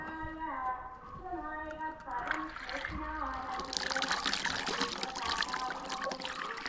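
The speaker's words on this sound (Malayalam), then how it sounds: "പൈപ്പിൻ്റെ ചുവട്ടിൽ നിന്നാണ് നേരെ വെള്ളം നിറയ്ക്കാൻ പോകുന്നത്." Water pours from a tap into a condom, a steady rushing splash that grows fuller as it fills; a voice speaks briefly at the start.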